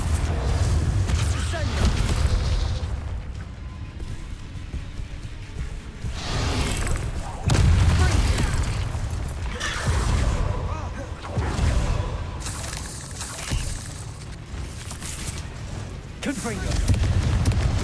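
Heavy booming blasts from Bombardo spell explosions in Hogwarts Legacy roll out repeatedly, deep rumbling impacts recurring every few seconds amid combat effects, with a voice speaking between them.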